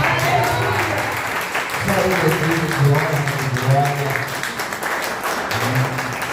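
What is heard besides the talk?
church congregation applause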